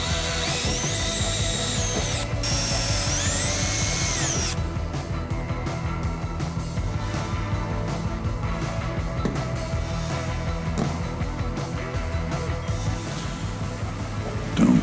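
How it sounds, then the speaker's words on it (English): A power drill with a 1/8 inch bit bores into metal while a passenger mirror goes onto a 1966 Mustang, a steady whining grind running unbroken for about fifteen seconds, close and loud. "the next drill bit in my kit is a 1/8 inch drill bit"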